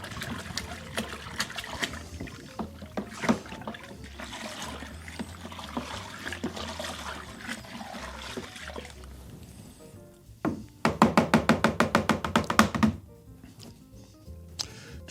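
A paddle stirs extract beer wort in a plastic bucket to aerate it, giving a continuous swishing, sloshing churn, followed near the end by a brief burst of rapid rhythmic knocking.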